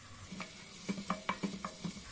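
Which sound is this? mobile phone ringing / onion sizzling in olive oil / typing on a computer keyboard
onion sizzling in olive oil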